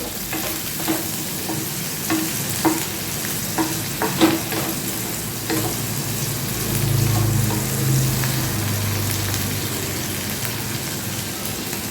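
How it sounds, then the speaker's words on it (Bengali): Onions softening and lightly browning in a hot pan for chilli chicken, a steady sizzle with scattered stirring clatter and scrapes, close and moderately loud throughout with no voices. "অল্প একটু লালচে করে ভাজবো একটু নরম করবো পেঁয়াজগুলো"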